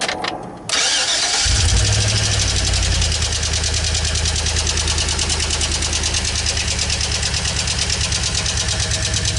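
A Chevy Express 4.8L V8 with a failing lifter cranks for a moment, fires loudly and settles into a steady idle with a fast, regular ticking running through it, heard close and alone for several seconds.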